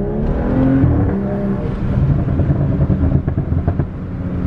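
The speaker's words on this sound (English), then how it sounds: "I don't even have burble tune on it, and it pops way louder." A BMW F30 335i with a stage 2 tune revs hard, its engine roaring loud and close with a rising pitch and crackling pops toward the end.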